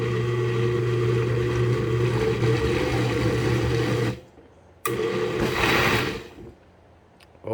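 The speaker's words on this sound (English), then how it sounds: "Then I'll add that all in and blend it so I have room for the dry ingredients." Electric blender whirring loudly as it mixes wet hot sauce ingredients with sugar and white vinegar for habanero sauce, running steadily for about four seconds, stopping, then a brief second burst that winds down.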